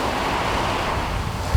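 Ocean waves washing onto a beach, a constant broad surf roar with some wind noise on the microphone, ending in a short low bump.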